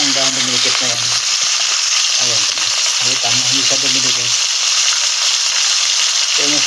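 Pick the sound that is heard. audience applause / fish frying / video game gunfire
fish frying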